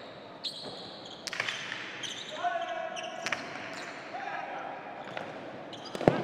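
A cesta punta pelota ball slaps and rebounds off the floor during a final at Saint-Jean-de-Luz, giving a few sharp, separate impacts over a murmuring background of voices.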